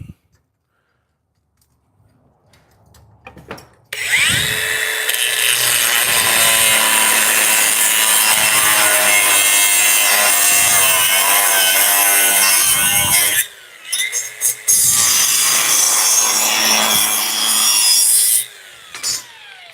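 Rough hand sawing through a wooden stick in a workshop, loud continuous rasping strokes close up, with a brief pause before the cutting resumes and then stops.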